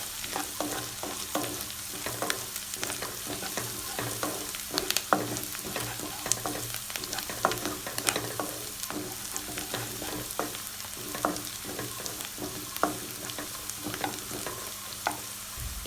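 Ginger garlic paste sautéing in a pan for a potato kurma, with steady close sizzling and frying crackle under repeated stirring scrapes throughout.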